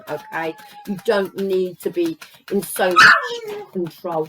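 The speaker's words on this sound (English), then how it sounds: "Sorry about the dog." A dog barks and yips close by in a home, short sharp barks scattered under steady conversational speech from a woman.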